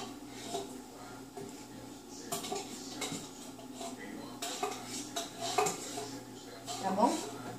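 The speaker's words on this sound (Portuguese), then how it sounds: "Agora vamos pegar a colher e raspar." A metal spoon scrapes around a bowl of passion fruit mousse, making repeated clinking and scraping strokes that grow louder toward the end.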